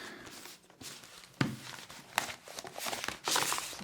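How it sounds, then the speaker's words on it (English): Tarot cards shuffled by hand in a few crisp bursts, soft riffles and slaps at about 1.4, 2.2 and 3.3 seconds, close and moderately quiet with no talking. "So I'm keeping the shuffling."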